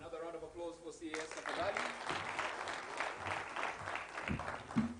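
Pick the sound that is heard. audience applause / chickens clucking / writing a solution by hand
audience applause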